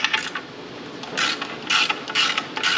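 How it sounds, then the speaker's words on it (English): Nuts are tightened with a ratcheting tool, producing bursts of rapid metallic clicking in irregular groups, close and fairly loud, with quiet gaps between strokes. "I like tightening these up like lug nuts."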